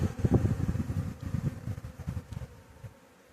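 Honeybees buzz close up at an apiary hive in a dense, wavering drone, with a few louder swells as individual bees pass near, then the hum softens.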